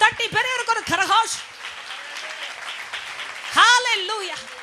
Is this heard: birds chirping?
no